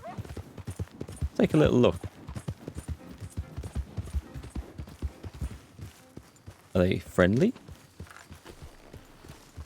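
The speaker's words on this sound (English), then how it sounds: "That's a nice looking horse" Horse hooves clip-clopping at a steady walking pace in a Red Dead Redemption 2 camp, close and fairly clear, running under ongoing conversational talk.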